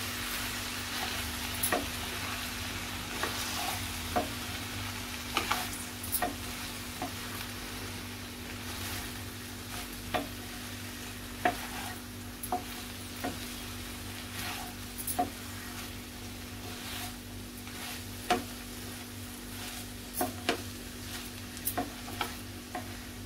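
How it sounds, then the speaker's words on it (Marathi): Okra and green chilies frying in a pan as they are stirred, a steady faint sizzle broken by scattered soft scrapes and clicks of the spoon, with no talking. "मिक्स करून घ्यायची चांगली भाजी आपल्याला।"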